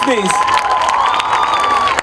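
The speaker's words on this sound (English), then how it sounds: "we cannot stop the applause" Audience at the Kala Ghoda Arts Festival 2016 inauguration in Mumbai cheering and clapping in a continuous loud crowd wash, with a voice on a microphone speaking over it.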